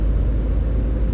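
Low, steady engine rumble from a Skoda Slavia 1.0 turbo car accelerating on a highway, with revs climbing gradually and road noise underneath, heard from inside the cabin.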